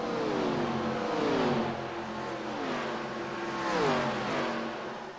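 NASCAR stock cars at Atlanta Motor Speedway in iRacing roar past one after another, loud engine whines sweeping down in pitch as each car goes by, with steady engine drone between the passes.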